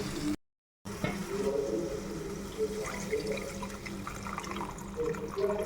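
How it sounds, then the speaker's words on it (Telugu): Water is poured into a pan holding a spiced mixture with green chillies and garam masala, making a quiet, steady rushing trickle after a brief cutout, with faint tonal background hum. "వాటర్ పోసుకోవాలి."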